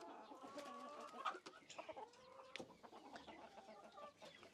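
Chickens cluck and call inside a barn housing egg-laying hens, a busy overlapping chatter of fowl voices with occasional sharper squawks, close and steady throughout with no talking.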